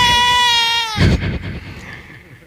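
A voice imitates a goat bleating, a loud wavering nasal bleat lasting about a second, followed by a short burst of noise that fades out.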